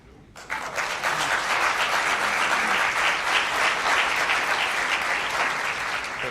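Applause from the room at a Liberal caucus retreat press conference in London, a dense steady clapping that starts abruptly and holds evenly throughout, with no voice over it.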